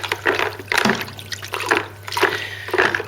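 Copper connectors from a Ford Cortina MK3 GXL being worked in a bath of light phosphoric acid, giving close, broad sloshing and splashing in repeated surges of liquid movement.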